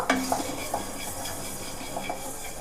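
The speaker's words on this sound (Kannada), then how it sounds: "ಎರಡು ಸ್ಪೂನ್ ಆಗುವಷ್ಟು ಕೊತ್ತಂಬರಿ ಬೀಜವನ್ನು ಹಾಗೆ ಹಾಕಿ ಡ್ರೈ ಫ್ರೈ ಮಾಡಿಕೊಳ್ಬೇಕು ಏನು ಎಣ್ಣೆ ಯಾವುದು ಹಾಕೋದು ಬೇಡ" Coriander seeds dry-fry in a pan without oil. A spoon scrapes and stirs them, making light rattling clicks over a soft, steady hiss, with no speech.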